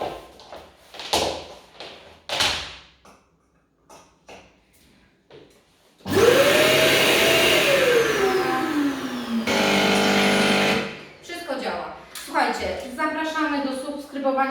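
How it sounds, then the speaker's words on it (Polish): A Karcher Puzzi 10/1 washing vacuum cleaner starts with a loud whine whose pitch swoops up and then settles into a steady roar. It cuts off, runs again briefly and stops, with speech before and after. "sprawdzamy czy, czy odkurzacz działa"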